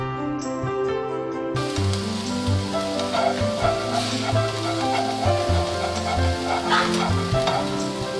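Onions and mushrooms sizzle steadily in a hot pan, a continuous close crackle with occasional stirring scrapes and no voices.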